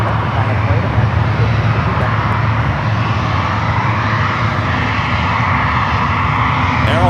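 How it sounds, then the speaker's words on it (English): A Boeing 777 airliner approaches and banks near San Francisco airport, its engines making a steady, broad roar that holds at a constant loudness. "Got that 777 heading toward us here. I'm loving this banking."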